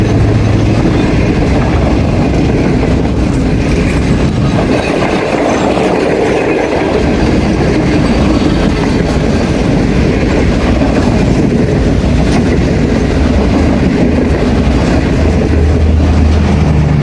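A Pakistan Railways Business Express train rolls past in thick fog, a loud, steady rumble of wagons with continuous clickety-clack of wheels over rail joints, heard alone for the whole stretch.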